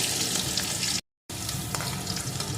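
Diced potato with a pinch of salt fries in a pan, a steady dense sizzle running throughout with no talk, interrupted once by a brief total dropout.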